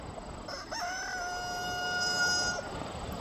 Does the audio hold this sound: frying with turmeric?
no